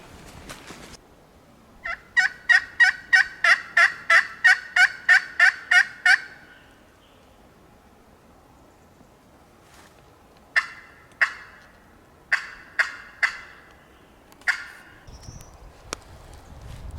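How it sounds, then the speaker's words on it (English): Wild turkey gobbler gobbling on a West Virginia ridge: a rapid run of a dozen loud gobble pulses, then a pause and several shorter, separate gobbles, fairly near, with no talk. "if there's a gobbler in there and we strike him, it will be pretty easy to hear him"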